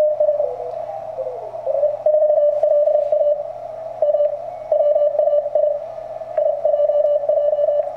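A TenTec Century 21 transceiver emits a steady zero-beat radio tone, a sustained single pitch with faint keyed Morse-like pulses and static underneath.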